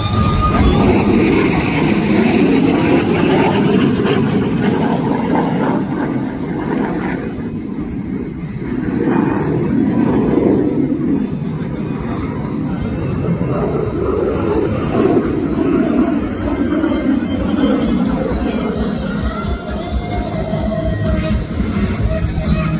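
A MiG-17 jet performing at an airshow, a loud continuous rumbling roar rising and falling as it passes, with a commentator talking over it.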